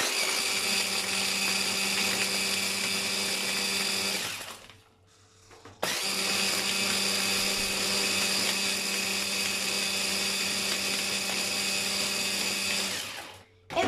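A blender whirring loudly while mixing a frappuccino with ice cubes, running steadily for about four seconds, cutting out briefly, then starting again for a longer stretch before stopping.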